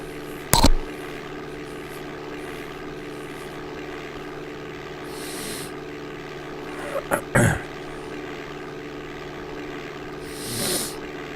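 A propeller airplane engine in the DOS game Flight Simulator 5.1 hums as a steady, even drone throughout, with a few sharp clicks and brief soft whooshes over it.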